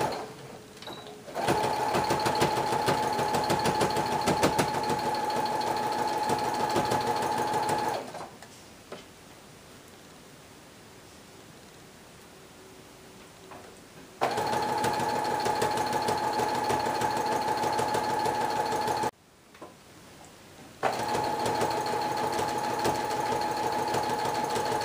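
A domestic sewing machine stitches fabric for a homemade dog jacket, running loud and steady in three long bursts separated by pauses, with no talking.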